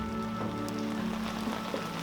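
Spring rain falls steadily on a mountain village at the foot of Jirisan, a soft continuous patter of drops on surfaces with a low steady hum beneath, no voices.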